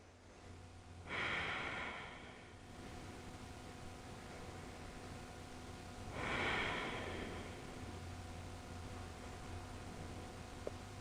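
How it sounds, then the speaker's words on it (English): Two slow, deep breaths taken while resting in yoga child's pose, each a soft rushing inhale and exhale a few seconds apart, close and quiet over a faint steady room hum, with no talk. "And just take a couple of deep breaths here."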